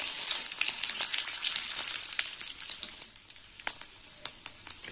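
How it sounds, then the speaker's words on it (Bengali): Dry chillies, whole cumin and bay leaves crackle and sizzle in hot oil, giving a bright steady hiss with scattered sharp pops that thin out toward the end. "ফোড়নটা ভাজাবো।"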